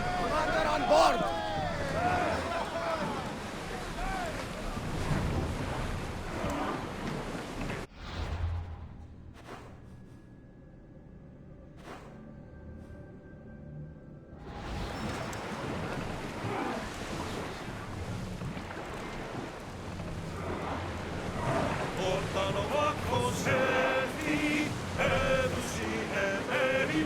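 Sailing ship at sea in Assassin's Creed Odyssey, with steady wind and water wash under loud game music and voices, dropping to a quieter stretch midway before the sea and music swell back.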